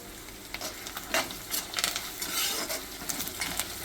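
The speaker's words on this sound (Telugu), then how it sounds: "అన్నీ బాగా వేగాయి కదా" Chana dal, peanuts, mustard seeds, cumin, urad dal and curry leaves fry in hot oil for a mango pulihora tempering, a close continuous sizzle and crackle with a few sharp pops and a spoon stirring against the pan.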